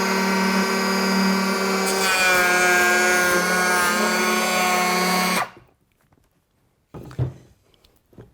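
Milwaukee M18 cordless 3-1/4-inch hand planer shaving along a 2-by board, a loud steady high-pitched whine with cutting rasp for about five seconds, then cutting off abruptly, followed by a few quiet handling knocks.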